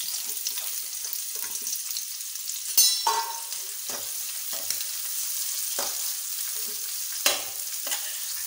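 Garlic, green chilli and onion stir-fried in hot oil for veg noodles: a steady broadband sizzle with scattered spoon scrapes and clatters, one sharper clank near the start and another later, no voices.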